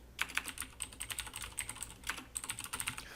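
Rapid typing on a computer keyboard, close and clear, with irregular bursts of keystrokes and short pauses, no voices.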